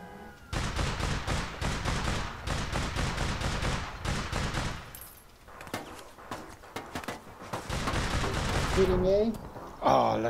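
Rapid bursts of shotgun and weapon fire in the online shooter APB Reloaded, loud clustered blasts in quick succession with brief pauses, ending with a sharp exclamation from a player.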